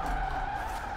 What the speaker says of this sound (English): I've been having a lot of fun just drifting these lower horsepower street cars